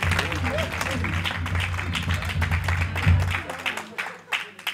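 Church congregation at a Pentecostal-style convention applauding and acclaiming the Lord, a dense continuous wash of clapping and voices with low music underneath, fading out near the end.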